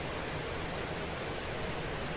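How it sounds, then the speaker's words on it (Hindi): Steady rushing water from a waterfall fills the space evenly and continuously, a soft broadband roar without breaks, heard as a calm meditation backdrop. "झरने की आती आवाज़ों को।"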